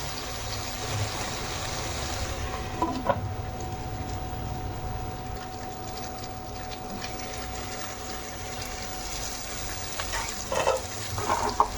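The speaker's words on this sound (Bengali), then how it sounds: "মশলাটা ভাজা ভাজা হয়ে গেছে, আর একটু ভাজা ভাজা করে নেব" Steady frying sizzle of spice paste in a pan for bottle gourd and prawn curry, with occasional stirring scrapes and clinks, continuous and close throughout.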